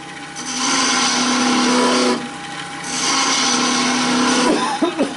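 A wood lathe turns a cedar Christmas tree shape, with two sustained bursts of loud scraping and cutting separated by a brief drop, ending in a few sharp knocks.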